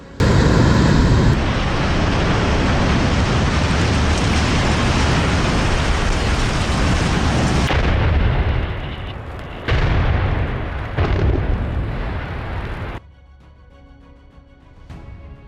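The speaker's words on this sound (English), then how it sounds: "A massive chimney in Ibbenbüren, Germany, collapsed in a precisely controlled explosion" Controlled demolition of a massive industrial chimney in Ibbenbüren, Germany: a loud, sustained roaring rumble lasting several seconds, then breaking into fading bursts before dropping to quieter background.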